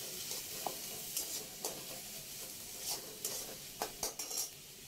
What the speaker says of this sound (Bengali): ভাজতে হবে